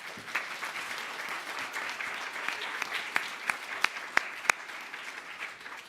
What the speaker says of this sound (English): your hands are going to be sore from all the clapping